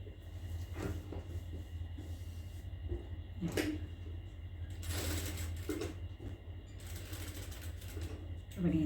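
A sewing machine stitches a fabric travel bag in short, intermittent mechanical bursts, with a low motor hum and clicks. Quiet handling noises and a faint voice can be heard between the runs.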